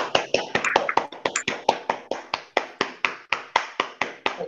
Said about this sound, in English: give another very big round of applause to our esteemed graduates